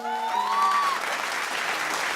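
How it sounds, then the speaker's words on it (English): A performing arts center audience at a Black History Month show bursts into loud, sustained applause, a dense wash of many hands clapping that follows a brief held tone. "Please put your hands together for yourself."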